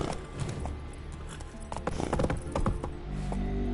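Geralt's horse Roach gallops in The Witcher 3, hooves clopping in a quick, steady rhythm close up, with game ambience and a brief tonal sound near the end.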